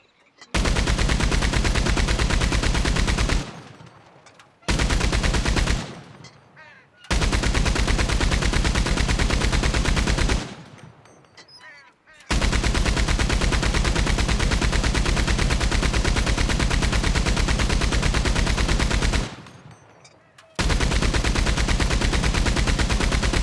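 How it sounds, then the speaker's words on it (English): Maxim gun in the Western video game Red Dead Redemption 2 hammering out long sustained bursts of rapid automatic fire, loud and close, broken by several short pauses between strings of shots. "A Maxim gun."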